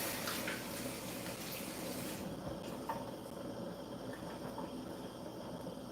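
Running tap water splashes steadily over items being rinsed in a kitchen sink, a soft hiss that grows quieter partway through.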